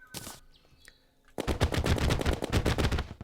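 Luminite bullets fire rapidly from a gun in the Terraria video game: a lone shot, a short pause, then a fast, loud, evenly spaced burst of shots.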